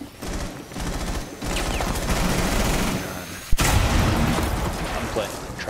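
Rapid bursts of gunfire from a Rainbow Six Siege match, dense and continuous through most of the stretch with a sharp loud shot near the middle, while a player talks over it.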